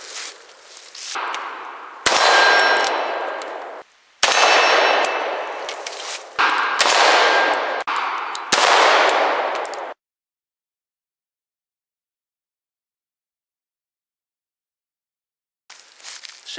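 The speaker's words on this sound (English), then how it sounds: "That can got opened up pretty good by that triple-aught Buckshot." A Smith & Wesson Governor revolver fires triple-aught buckshot at a can outdoors, producing several loud, sharp reports with clanging, ringing decays in quick succession, then silence and a last faint noise.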